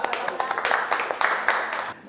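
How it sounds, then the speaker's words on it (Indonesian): A classroom group claps for a student group. The claps are brisk and crackly, with several hands beating unevenly for about two seconds, and they fade out at the end. "Tepuk tangan untuk kelompok ini."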